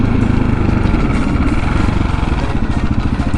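A 701 single-cylinder motorcycle engine revs hard in third gear while the bike holds a wheelie, a loud, close, continuous thumping drone with steady rapid pulsing.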